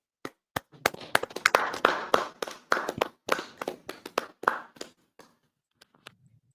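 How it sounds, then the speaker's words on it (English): A burst of clapping from a small group, sharp claps building quickly into a dense patter, then thinning out to a few scattered claps before stopping. "Y'all clap it up, Baba Kushaw."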